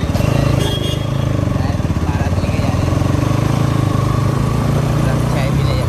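Bajaj Pulsar NS200 motorcycle engine running steadily while riding, a loud continuous rhythmic drone close by that stays constant throughout.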